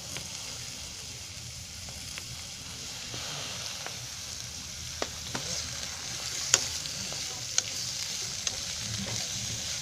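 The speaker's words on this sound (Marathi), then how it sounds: "आता कढईमध्ये थोडंसं तेल टाकलं आहे. आता त्याच्यामध्ये हा कांदा टाकते." Onion frying in a little oil in a wok for cluster bean curry, a loud steady sizzle with stirring scrapes and a few sharp ticks, close and without talk.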